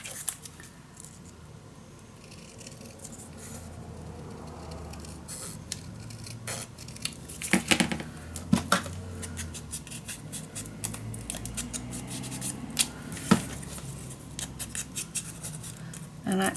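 Paper pieces for a handmade mini album being cut in half with scissors, a string of soft, close snips and rustles at irregular intervals over quiet room noise.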